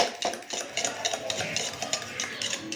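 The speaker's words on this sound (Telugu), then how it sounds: "బాగా అంటే బాగా మిక్స్ చేసేసాను" Egg mixture for an egg sandwich stirred briskly in a bowl, rapid clicking and scraping strokes of a utensil in quick irregular rhythm, close and fairly quiet, no talk.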